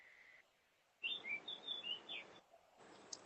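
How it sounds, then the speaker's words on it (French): Small birds chirp and tweet in a series of short, bright calls, fairly close but quiet, in a calm room ambience with no talking. "Ah non, j'entends les oiseaux, j'adore."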